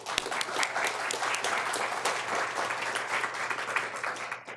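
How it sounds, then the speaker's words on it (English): Conference audience at an education summit breaking into full, sustained applause, a thick wash of overlapping claps that holds steady throughout. "I'd like to give all of them a round of applause"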